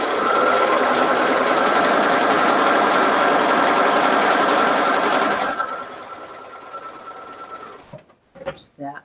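Sewing machine stitching quilt block pieces together for a French basket block, a steady loud whir for about five seconds that then stops, followed by quieter handling noises and a few brief sounds near the end.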